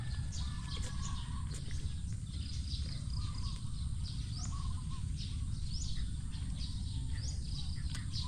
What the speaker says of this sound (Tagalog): Sarap pakinggan ng mga huni ng mga ibon.